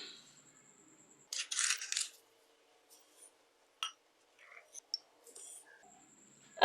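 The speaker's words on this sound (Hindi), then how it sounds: "अब हम डालेंगे चीनी।" Sugar pours into a pot of water for jalebi syrup, a close, grainy rush lasting under a second, followed by a few faint clinks and taps in an otherwise quiet kitchen.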